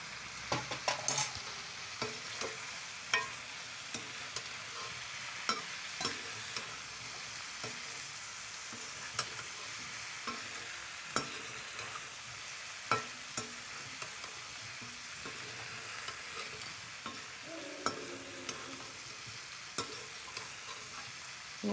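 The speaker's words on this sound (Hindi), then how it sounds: "अच्छी तरह से भून लेंगे" Chilli powder and spices roasting in a pan for a Kali Mata offering, a steady soft sizzle and frying hiss with frequent brief scrapes and clicks of a spoon stirring throughout, no talking.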